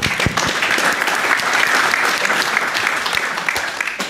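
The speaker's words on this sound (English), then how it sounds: "Round of applause for Jeff." Dense, loud audience applause after a presenter finishes a short talk, many hands clapping in a continuous close wash that holds steady for several seconds without speech.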